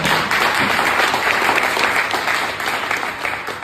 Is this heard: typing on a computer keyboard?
no